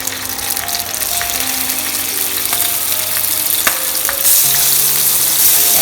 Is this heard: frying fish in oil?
yes